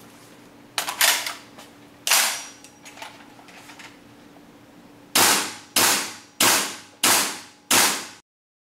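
A gas blowback airsoft rifle fires from a new-version magazine. It lets off a few scattered sharp cracks, then a run of five evenly spaced loud shots near the mic, with no voices.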